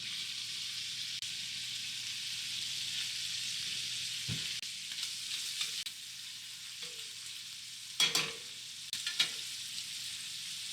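Bacon frying in melted butter on a stovetop gives a steady, even sizzle throughout, broken by a few brief clinks and scrapes of a utensil, with no voices.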